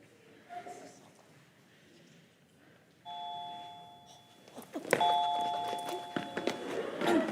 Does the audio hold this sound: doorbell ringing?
yes